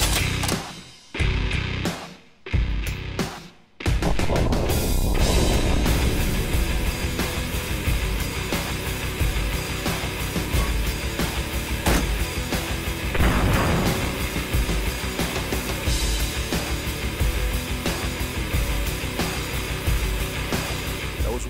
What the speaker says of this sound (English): we'll be firing these out of the M2HB